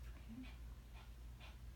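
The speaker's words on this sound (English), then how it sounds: "So, who's panting back there? There's a dog here, guys." A dog pants softly in the background of a quiet room, a few faint rhythmic breaths over a low steady hum.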